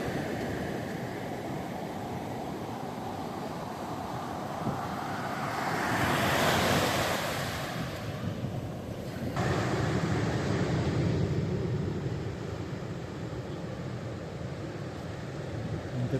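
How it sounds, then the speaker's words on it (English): Ocean waves break on a beach along the Heysen Trail in South Australia, a continuous roar of surf swelling to a louder crash midway then washing on, heavily mixed with wind buffeting the microphone. "Except when you've got to run away from the waves."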